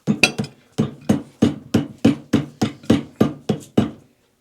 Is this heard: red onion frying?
no